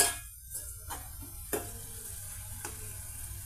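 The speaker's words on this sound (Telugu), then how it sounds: "మన టమాటాలు ఈ విధంగా లో ఫ్లేమ్ మీద పేస్ట్ లాగా తయారవుతున్నాయండి." Tomatoes, added to oil with fried onion pieces, green chilies, salt and turmeric, cook down to a paste over a low flame, giving a steady close sizzle with a few soft stirring scrapes.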